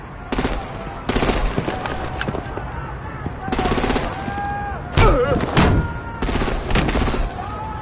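Machine-gun bursts and heavy gunfire in a Batman: The Enemy Within game scene come in repeated rapid volleys of sharp shots, loud and close, with short gaps between them.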